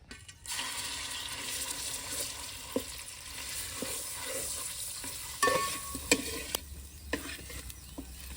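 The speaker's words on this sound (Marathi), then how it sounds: "आता आपल्याला पहिले वाटलेलं वाटण टाकून ते परतून घ्यायचंय" Ground masala paste sautéed in hot oil over a village wood-fired stove for black chicken curry, a steady close sizzle and hiss with occasional scraping stirs and light clinks.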